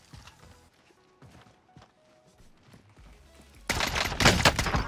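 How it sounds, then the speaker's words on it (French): Automatic rifle in the Warzone battle royale game, firing a rapid, loud burst of close shots that starts suddenly after a few quiet seconds of faint footsteps and soft movement sounds, no talk. "Il tire un peu vite mon autonoob."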